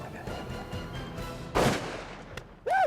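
One sharp rifle shot cracks out at a bull during a hunt, loud and close above a low outdoor background, then fades with a brief rumbling tail before another short burst of sound.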